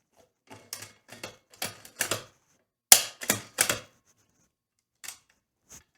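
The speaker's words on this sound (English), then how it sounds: "Get the old bolt back in." A bolt slides back into a customized Savage rifle, giving a series of sharp metallic clicks and clacks in quick irregular bursts, loudest midway, then two fainter clicks after a pause, with no talking.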